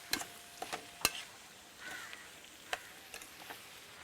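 Sliced onions frying in oil in a pan while being stirred, quiet crackling sizzle punctuated by sharp clinks and scrapes of a spoon against metal at irregular intervals.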